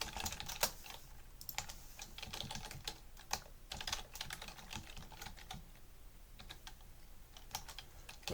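Steady clicking of fingers typing on a computer keyboard, quiet and close, with irregular bursts of keystrokes and no voices.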